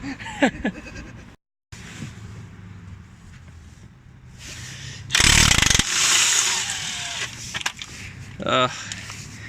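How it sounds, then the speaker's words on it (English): A Vauxhall Zafira brake job with an impact gun: a sharp, loud burst of the tool's hammering whir about midway, then a quicker ratcheting rattle near the end, over low background rumble and voices. "Impact guns make life so much easier."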